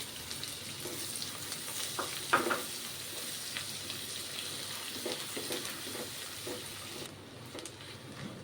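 Chili pieces and onion frying in a pan for idli upma, a steady close sizzle and crackle with occasional louder pops and stirring scrapes, no voices.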